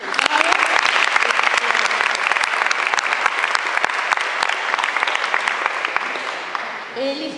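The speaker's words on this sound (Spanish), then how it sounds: "Pido un aplauso para él" Applause from a seated audience at a yoga conference, a dense, steady patter of many clapping hands held for several seconds, fading at the end as a voice begins.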